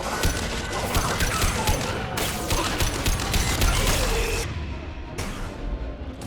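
Gunfire from a Mass Effect 2 firefight blazes in a dense, continuous barrage, with sharp cracks and crashes layered over a heavy, loud roar for the whole stretch.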